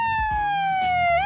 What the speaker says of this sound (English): We need a siren.